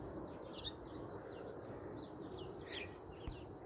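Birds chirp and sing in light, repeated calls during a late-winter walk outdoors in February, with plants beginning to bloom, over a steady wash of background noise.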